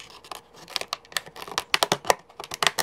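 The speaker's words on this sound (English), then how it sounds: "I'm just going to take a scissors, poke a hole in the side, and trim a hole" Scissors poke into and trim a hole in the side of a plastic container, giving a quick run of sharp snips and crinkly plastic clicks, close and fairly loud, with no talking.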